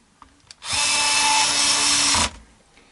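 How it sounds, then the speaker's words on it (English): A power screwdriver drives a screw into a Squier Vintage Modified Stratocaster guitar during a pickup change, one steady whirring run of about a second and a half, preceded by small clicks and ending abruptly. "Now push in the remaining screws."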